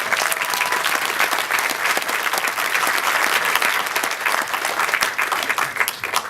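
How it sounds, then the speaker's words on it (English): Audience applauding at the premiere of the film "Zion", steady, dense clapping from a sizable crowd sustained for the full stretch without a break, fairly close and loud. "So I think round of applause to the"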